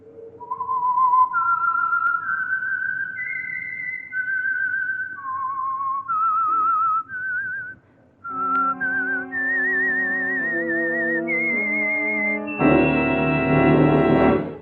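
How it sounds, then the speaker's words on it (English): A melodic whistled theme identifying the Signal Oil mystery radio program The Whistler, a lone whistler rising and falling through a wavering tune before orchestral chords swell in beneath it near the end. "the signal to listen for is this whistle that identifies the Signal Oil program, The Whistler"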